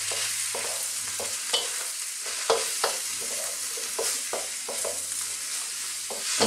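Thinly sliced white mushrooms sizzle steadily in a hot pan while a utensil scrapes and stirs them at irregular intervals, the frying hiss constant and close throughout.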